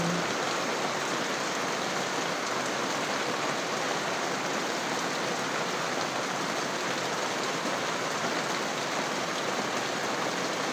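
Steady, heavy rain pours down without a break, a dense, even hiss of drops drumming on surfaces.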